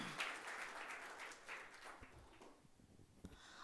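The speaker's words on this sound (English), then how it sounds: "Can we have a huge round of applause once again for them?" A corporate show audience claps for the speakers, a fairly faint wash of applause that fades and thins out over a few seconds.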